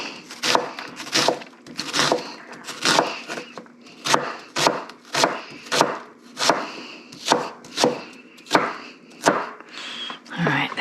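A knife dices an onion on a wooden cutting board in a steady rhythm of about a dozen sharp, close chops, each a crisp thunk, with no talking.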